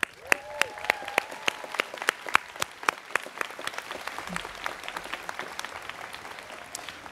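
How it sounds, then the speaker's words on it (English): At a university Class Day ceremony, an outdoor audience claps, with a few sharp, loud individual claps standing out over a thinner, spread-out patter of applause that gradually fades. "Please join us in a round of applause"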